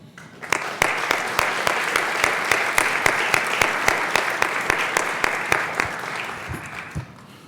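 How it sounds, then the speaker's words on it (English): Parents and guardians at a board of directors meeting break into applause, which swells quickly into dense, even clapping with a few louder, distinct claps standing out, then tapers off toward the end. "so if you would join me in a round of applause"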